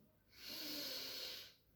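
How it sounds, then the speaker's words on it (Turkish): A single slow, deep breath drawn in during a meditation session, close and steady, swelling over about a second and fading out, with no other sound around it. "derin bir nefes alın"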